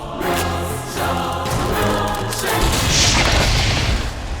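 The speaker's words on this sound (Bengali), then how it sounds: "রেল লাইনে বোমা ফেটেছে তাড়াতাড়ি আয়" A bomb blast on a railway track as a film sound effect: a sustained, loud rumbling explosion with crashing debris that swells and roars throughout, heavy low-end booms carrying to the end.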